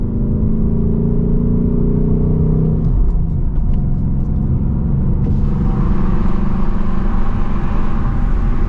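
2024 Ford Mustang GT with loud exhaust on a late-night drive, heard from inside as a deep, continuous engine rumble that shifts tone midway as the revs change, loud and close throughout.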